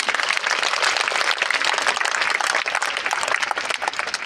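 An audience at a live Hindi poetry recital breaks into sustained applause, a dense, steady roar of many hands clapping close by.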